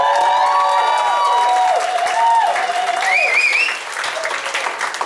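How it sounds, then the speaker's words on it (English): Loud, full applause from a burlesque crowd at a 2017 Burlypicks show, with cheering voices and whoops rising over steady clapping, then thinning slightly toward the end. "Huge round of applause for Matchstick Merryweather."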